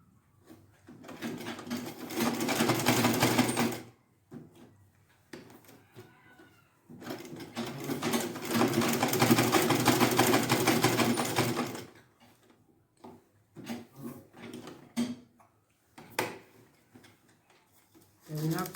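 A sewing machine stitching autogele fabric runs in two long steady bursts, close and fairly loud, with quieter gaps of handling and shuffling between them and a brief start near the end.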